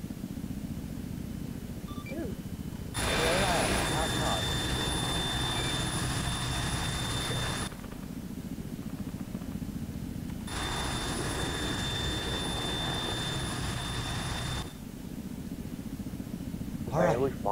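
An aircraft in the video game Arma 3 taking off, its jet engine roaring up in two long sustained surges with steady high whines, under radio chatter and talk.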